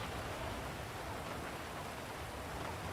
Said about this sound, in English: It's really, really difficult to hear you guys with this rain.